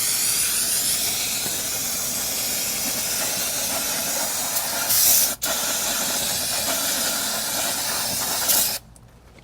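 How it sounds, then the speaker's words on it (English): Brake cleaner is sprayed onto a rear drum brake assembly of a GM Cobalt, HHR or Pontiac G5: a loud, close, continuous aerosol hiss lasting several seconds, with a split-second break midway, then stopping abruptly. "we're just going to give it one more hose down with brake clean just to get our surface oils off of the"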